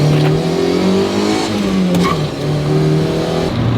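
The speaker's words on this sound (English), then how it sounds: "It took all 99 horsepower this car produces to chirp those tires." A Mazda Miata with a 99-horsepower engine accelerates hard, its loud, close engine note rising and shifting in pitch through the revs while the tires chirp.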